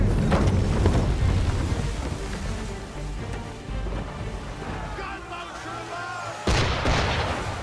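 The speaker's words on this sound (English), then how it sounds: "Why is he shooting at us?" Ship cannon fire in Assassin's Creed III: heavy booming blasts and rumbling from the start, fading into a lingering roar, then another sharp loud boom near the end, with voices speaking amid it.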